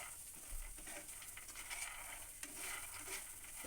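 Peanuts frying in a small amount of oil, a steady soft sizzle with occasional stirring scrapes against the pan, fairly quiet and close, with no talking.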